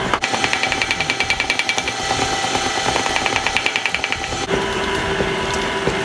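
Electric mixer whirring steadily through batter as almond flour is added a little at a time, a loud continuous motor drone with a rhythmic pulsing rattle, close up and alone.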